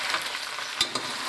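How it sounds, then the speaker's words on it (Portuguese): Free-range chicken frying in a pan gives a soft continuous sizzle, with a couple of brief clinks of stirring partway through, close by and without talk. "Daí ele vai cozinhando e fritando."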